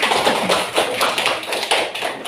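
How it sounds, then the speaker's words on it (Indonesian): Classroom of students claps hands together, an irregular cluster of close, sharp claps in loose rhythmic bursts, with no talking. "Coba tepuk tangan semuanya."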